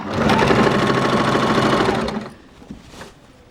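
Sewing machine running steadily, stitching elastic onto folded fabric for children's underwear, a loud continuous whirr for about two seconds before stopping, leaving faint handling noises.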